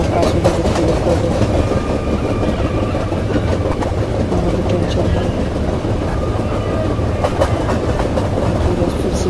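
In an Indian Railway video game, a train rolls past with a continuous rumbling drone and rhythmic clickety-clack of wagons over rail joints, steady and fairly loud throughout.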